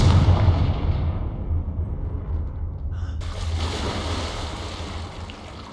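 A Confringo blasting spell goes off in Hogwarts Legacy, a loud, rumbling burst that fades into a churning, wave-like roar with a sharp shift partway through and no talking.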